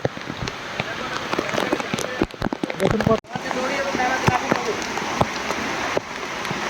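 A rain storm at Khoiyachara waterfall in Sitakunda produces a dense, steady rain hiss with scattered sharp drop hits, and voices come through at times.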